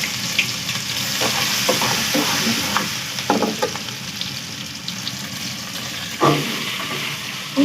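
Garlic and ginger paste frying in hot oil in a cooking pot, soft continuous sizzle with scattered stirring scrapes and clinks close by, no talk.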